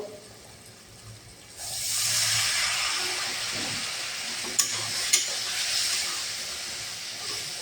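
Chicken frying in a pan with tomato and potato gives a loud, steady hiss and sizzle after water goes in, broken by a couple of sharp spits and pops, with no talking.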